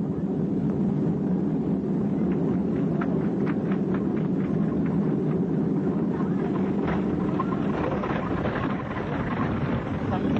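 Airliner engine roar on a too-high, too-fast approach to a rain-soaked runway, a dense steady rumble with wind buffeting throughout and rising noise near the end.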